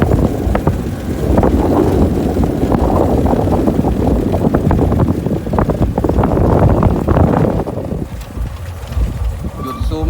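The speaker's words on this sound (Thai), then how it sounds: "ลมแรงน่าดูเลยครับ" Strong wind gusting across a wooden footbridge with a pavilion over the water in Ban Hua Bueng, Nakhon Ratchasima, Thailand, a loud, steady roar buffeting the microphone that eases slightly near the end.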